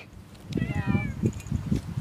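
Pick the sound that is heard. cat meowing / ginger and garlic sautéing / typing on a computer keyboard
cat meowing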